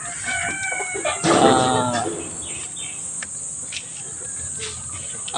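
Backyard chickens clucking at close range while a rooster crows loudly partway through, set over a steady chirping of crickets or insects and a bright background hiss.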